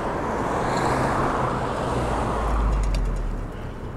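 Cars pass on a hot Las Vegas street: a continuous broadband road roar with one vehicle swelling closer and fading, steady traffic wash with no talk.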